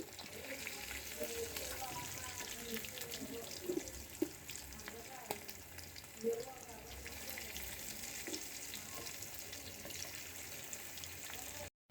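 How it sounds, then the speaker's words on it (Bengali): Hilsa fish fries over a low gas flame with a steady, quiet sizzle. A few soft clinks and knocks of cookware break through near the middle, and the frying continues until it cuts off at the end. "এখন আমি মাছটা ভেজে ফেলবো এই অল্প গ্যাসের মধ্যে"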